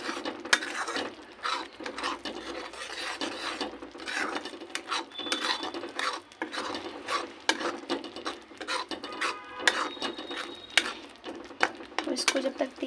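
Turmeric and garam masala are stirred into a pan of lauki sabji, giving a continuous scraping and rubbing of a spoon against the pot in uneven strokes, with faint clinks throughout.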